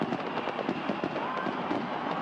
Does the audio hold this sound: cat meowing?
no